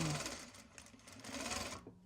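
A sewing machine runs a steady buzzing stitch along Japanese fabric for a bag or accessory, close and continuous for about two seconds before stopping.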